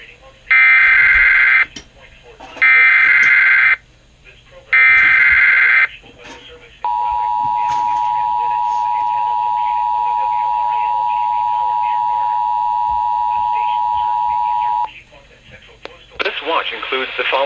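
NOAA Weather Radio Emergency Alert System broadcast for a tornado watch: three loud bursts of harsh digital header tones, then a long steady attention tone lasting about eight seconds, followed by the start of a synthesized voice.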